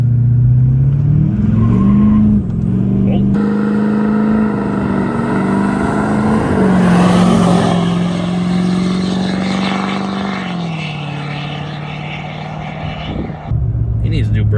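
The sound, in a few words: Duramax diesel pickup truck accelerating in 0 to 60 test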